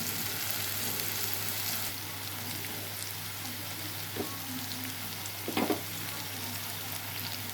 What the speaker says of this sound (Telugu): ఇప్పుడు వేగినాయి కదా ఫ్రెండ్స్, కొంచెం కారం వేసి కలుపుకుందాం